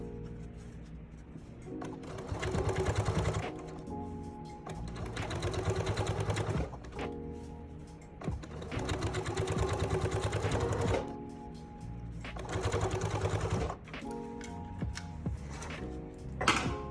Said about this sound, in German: jetzt kannst du auch hier den Beleg wieder knappkantig an der Nahtzugabe absteppen